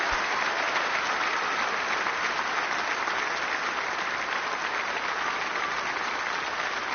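Sustained crowd applause from a snooker arena audience in the video game Snooker 19 after a match-winning frame, a dense, even wash of clapping that holds steady throughout without any speech.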